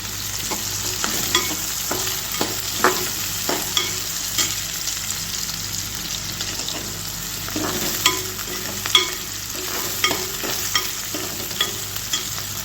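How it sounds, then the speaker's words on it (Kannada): Sliced onions frying in oil in a pan for a home-cooked Kannada dish, with a steady loud sizzle and repeated scraping stirs throughout, no talking. "ನೋಡಿ ಈಗ ಈರುಳ್ಳಿ ಫ್ರೈ ಆಗಿದೆ"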